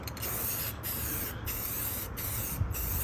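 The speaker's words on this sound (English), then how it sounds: "So I'm gonna just spray over it now and make sure it's good." Rust-Oleum gloss protective enamel sprayed from a can onto the body of a 1965 Chevy Impala, close, steady hissing bursts with four brief pauses between passes.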